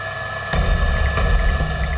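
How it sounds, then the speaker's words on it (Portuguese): A helicopter of Brazil's Special Secretariat of Indigenous Health, in Yanomami territory, gives a loud, steady low rotor and engine drone that swells abruptly after a quiet first half-second and holds, with no talk over it. "O repórter Paulo Zero embarca no helicóptero da Cesaia, Secretaria Especial de Saúde Indígena."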